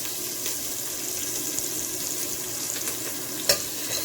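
Onion and escallion frying in coconut oil with curry for Jamaican curry shrimp, a steady close sizzle and crackle throughout, with one brief sharper pop near the end.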